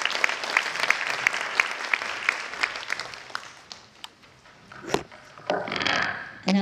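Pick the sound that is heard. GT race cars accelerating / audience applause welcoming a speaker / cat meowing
audience applause welcoming a speaker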